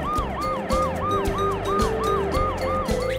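Cartoon ambulance siren wailing in a rapid repeating up-down pattern, loud and continuous over a bouncy background music beat, with no talking.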